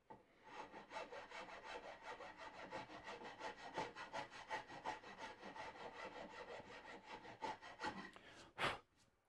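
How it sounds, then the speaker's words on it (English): Sandpaper is rubbed by hand over the wooden front leg of a Lutyens bench in a steady back-and-forth rhythm of close, raspy strokes, ending with one brief louder scuff. "I can come in with a bit of sandpaper after"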